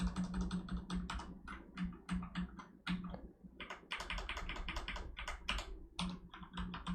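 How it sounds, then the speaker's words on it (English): Rapid, uneven clicking from a computer keyboard carries on for several seconds in bursts of keystrokes with brief pauses, close and fairly quiet. "Is my keyboard not working or something?"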